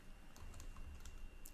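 A few soft computer keyboard key presses for a Ctrl-V paste shortcut, faint and close in a quiet room, with no voices.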